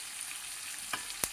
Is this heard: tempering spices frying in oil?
yes